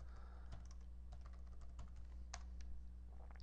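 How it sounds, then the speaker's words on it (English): Light tapping on a computer keyboard, scattered irregular keystrokes close by and quiet over a steady low hum, with no talk. "And I'll just type a few in here for the form's caption."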